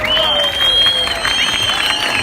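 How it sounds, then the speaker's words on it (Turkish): A rally crowd in Yakutiye city square applauds, a broad wash of clapping and cheering under a tonal, musical or voice-like layer that runs throughout. "Bir alkışlıyoruz yani ben buradan siz oradan."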